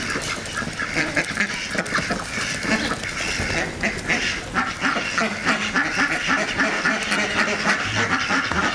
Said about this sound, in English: The livestock that I'm carrying in my hand right now is a duck.